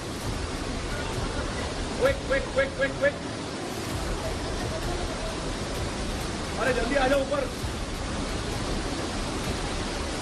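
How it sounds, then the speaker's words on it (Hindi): Floodwater rushes into the basement of a Delhi IAS coaching centre as a steady, loud broadband roar, with people shouting urgently over it in bursts. "पानी तेजी से जा रहा था"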